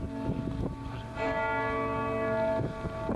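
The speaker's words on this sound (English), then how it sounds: "All the while, the cathedral's bell tolls ominously in the background." Large bell of Lincoln Cathedral, an early Gothic cathedral, tolling with long ringing, sustained tones; a strong strike around the middle swells and hangs, with fainter strokes before and after.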